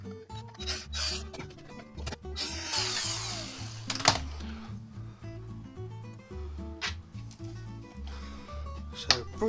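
A power tool undoes screws on the plastic cover of a Suzuki Address 110 scooter, short whirring bursts starting and stopping in an irregular rhythm amid clicks and rattles, close and moderately loud.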